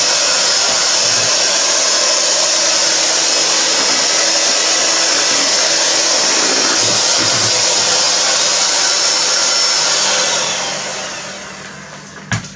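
An electric hand mixer whirs steadily at high speed while blending two small packets of strawberry gelatin into rhubarb cake batter, loud and continuous before winding down near the end.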